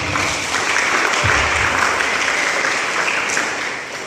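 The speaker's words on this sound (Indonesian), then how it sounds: "sekali lagi tepuk tangan buat Pak Didi" A room full of people claps steadily for Pak Didi after a talk on positive school culture, dense sustained applause close by throughout, with no clear speech over it.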